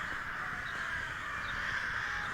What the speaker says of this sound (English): They're just crows